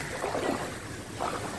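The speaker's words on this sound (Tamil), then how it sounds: "காற்றை பாருங்கள் என்ன பலமாக சொல்லுவாங்க" Strong gusting wind roars steadily during heavy rain in the Chennai flood, a dense broadband rush with a couple of louder surges, close and without speech.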